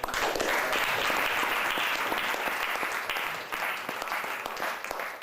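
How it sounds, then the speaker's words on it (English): Audience applause after presenters are thanked at a meeting, a dense, steady roar of many hands clapping that holds loud for about five seconds before easing slightly. "Can we get a round of applause for them?"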